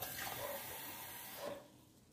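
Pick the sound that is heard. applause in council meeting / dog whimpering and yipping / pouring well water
pouring well water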